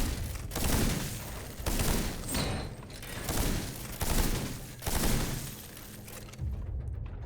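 Steelrising gameplay with repeated bursts of gunfire, each blast followed by a rumbling decay, spaced roughly a second apart and fairly loud against a noisy background.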